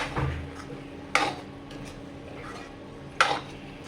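Soft sizzling of a dried prawn and raw plantain curry in a pan with two sharp metallic clinks of a spoon against the pan, spaced a couple of seconds apart.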